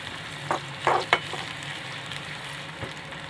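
Raw banana (valakai) slices frying in a shallow layer of oil, a steady close sizzle broken by a few sharper bursts and clinks as pieces are stirred or lifted out.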